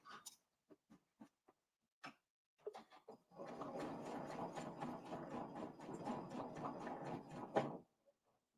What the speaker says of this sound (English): I'm just sewing right on that basting stitch and turning as I go.